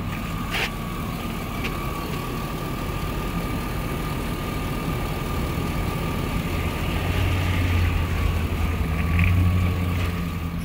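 A 2003 Hummer H2 engine idles steadily with a deep, even exhaust rumble that holds at the same level throughout, swelling slightly toward the end, with no talk.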